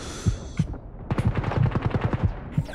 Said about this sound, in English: let me just aim down the sight right quick let me go and try and shoot him